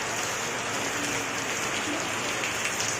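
Rain falls in a steady, even hiss of drops hitting surfaces, close and continuous with no voices over it.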